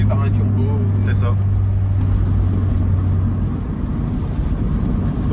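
A Honda CRX with a naturally aspirated 1.6 i-VTEC engine runs with a loud, steady low drone and throaty rumble. Voices talk over it now and then.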